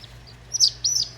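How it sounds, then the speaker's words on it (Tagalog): Newly hatched chicks chirp in two or three thin, high peeping calls in quick succession over a low steady background hum, close and clear. "Apat na itlog, apat na sisiw."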